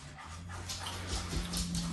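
Dogs at feeding time whimpering and giving short yips, soft high whines over a low hum with a few brief sharper bursts, fairly close.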